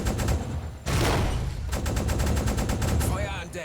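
A U-boat's deck flak gun firing in the submarine game Uboat, rapid loud automatic bursts in quick succession, with a short pause before the fire resumes.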